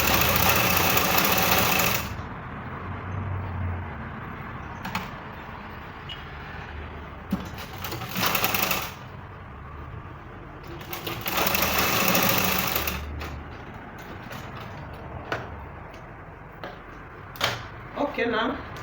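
A sewing machine stitches a dress in several loud bursts with pauses between them, while a person talks over and around the runs.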